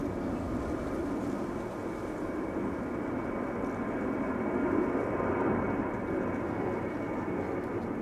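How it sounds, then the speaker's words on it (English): A KLM Boeing 737-800 takes off at Amsterdam Schiphol Airport, heard as a steady, broad jet roar that holds for about eight seconds with a slight swell near the middle, without any talk. "KLM 737-800 taking off to question mark according to flight radar"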